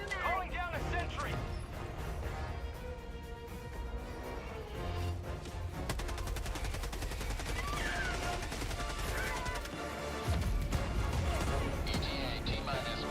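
Continuous rapid gunfire from a sentry turret in Helldivers, steady and dense throughout, with a player talking over the shooting.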